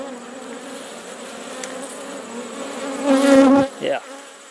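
Honeybees hum in a steady drone close by at a hive, swelling louder near the end with a brief rustle of movement.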